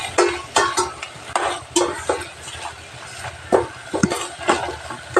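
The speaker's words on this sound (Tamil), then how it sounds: "இப்போ தாளித்ததை இந்த கீரையில் சேர்த்திடலாம் கலந்து விட்டுக்கலாம்" A spoon stirs tempering into an amaranth greens stir-fry in a pan, giving repeated scraping and clinking strokes in an irregular rhythm over a soft sizzle, close and moderately loud, with no talking.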